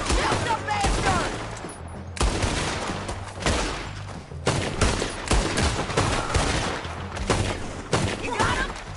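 Rapid gunfire from a shootout in Red Dead Redemption 2, dense volleys of shots crackling almost without pause, with brief lulls, loud and close, with shouted voices mixed in.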